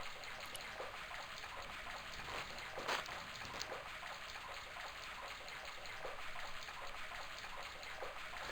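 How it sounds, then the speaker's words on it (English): Rusty faucet in the Broken Sword video game spewing a steady stream of water, a continuous hissing gush with a brief louder splash partway through, heard alone with no talk. "The faucet creaked, coughed, and spewed out a stream of rusty-colored water."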